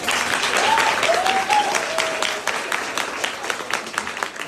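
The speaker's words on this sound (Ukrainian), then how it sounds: "Ну, оплесками давайте!" Dense applause from a crowd gathered for a school's last-bell celebration, steady and loud at first and thinning toward the end, with a voice briefly calling out over the clapping.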